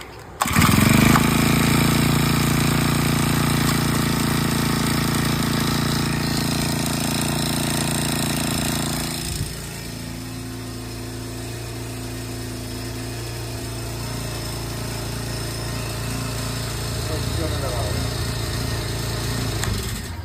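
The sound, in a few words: brush cutter engine starting and running without choke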